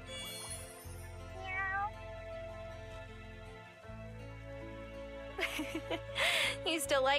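A cat in the video game Wylde Flowers gives a couple of meows beneath steady background music, followed by a few louder, closer mews near the end.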